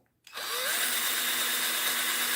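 A power drill bores a hole into the hand of a 3D printed Super Mario statue, starting abruptly after a brief quiet moment and then running as a loud, steady whine throughout.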